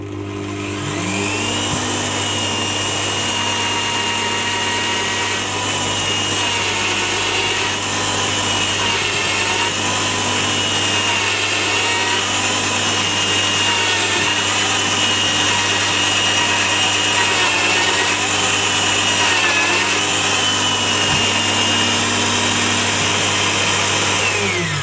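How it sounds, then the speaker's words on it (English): A power drill with a 7mm countersink bit whines steadily and loudly for a long stretch, its pitch wavering slightly as it pre-drills hardwood, with no talking. "I need to pre-drill this because it's hardwood"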